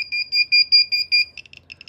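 A high electronic alarm on a CDV meter with a RadView build, maxed out in X100 mode, beeps in a steady rapid pattern of short pulses, close and clear, then shifts to quicker, fainter chirps.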